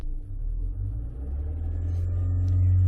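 Engine of a 2017 Nissan Altima with a failing CVT, given a little gas: a close, deep rumble that swells and rises steadily in pitch toward the end, with no talk over it.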